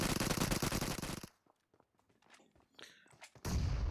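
A burst of rapid video game gunfire opens loud and dense, drops to sparse footsteps and small clicks, then another heavy burst of shots hits at the end.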